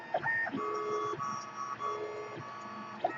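A high-speed 3D printer runs at 200% speed on a 40mm calibration cube, its stepper motors whining in shifting pitched tones with steady mechanical whirring and a few clicks, close and continuous, with no voices.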